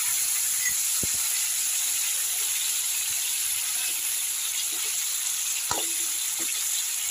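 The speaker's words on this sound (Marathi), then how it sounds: "आता थोडंसं चिंचेच्या पाण्याने सगळ्याचा टाकायचं." Tamarind water hits hot oil with browned, pre-cooked bitter gourd and sets off a continuous close sizzle and hiss, with a few light stirring clinks over the frying.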